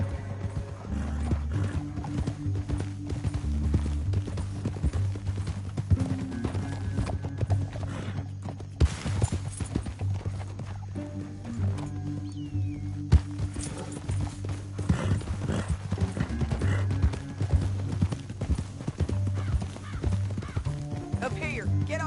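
Rhythmic clip-clop of several horses trotting in the Red Dead Redemption 2 video game, with background music underneath and an occasional whinny.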